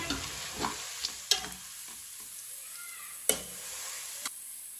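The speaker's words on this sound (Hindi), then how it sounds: "प्याज को हल्का सा ब्राउन कर लेंगे।" Chopped onions frying in a pan for a Punjabi-style biryani, cooked only until lightly browned: a soft, steady sizzle with occasional sharp clicks of stirring, faint and alone without talk.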